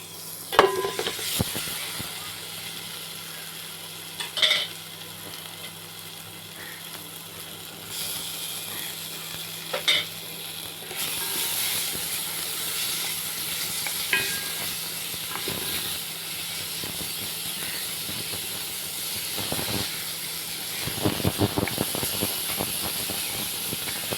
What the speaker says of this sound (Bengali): এবার আমি ফ্রাই কড়াই বসিয়ে দিয়েছি, তার মধ্যে দুটো পেঁয়াজ কুচিয়ে দিয়ে দিয়েছি।